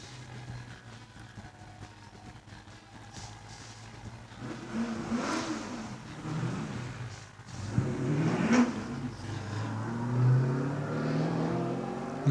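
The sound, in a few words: Holden Commodore race car leaving start line at hillclimb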